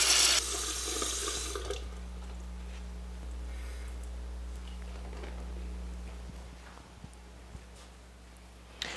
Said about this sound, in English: Now I can fill my basin with comfortable water.